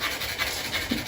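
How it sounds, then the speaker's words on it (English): A dog pants close by, quick rhythmic breaths in short bursts, with no one talking. "Sorry, that's my dog walking around."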